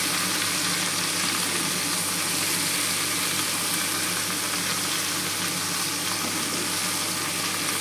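Ash gourd pieces frying with green chillies in a pan give off a loud, dense, unbroken sizzle that stays level throughout, with nobody speaking.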